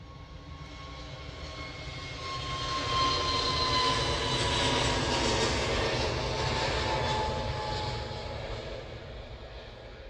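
An EasyJet airliner rolls down runway 23L at Manchester Airport, a steady broad jet roar that swells toward the middle and then slowly fades, close and loud with no talking.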